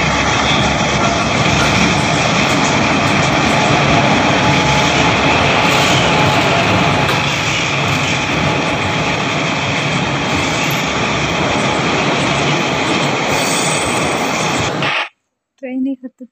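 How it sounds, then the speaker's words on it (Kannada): A train at a railway station, with a loud, steady broadband engine rumble running continuously up close for about fifteen seconds before cutting off abruptly, followed by brief faint noise. "ಟ್ರೈನಿಗೆ ಹತ್ತುತ್ತಾ ಇದ್ರು"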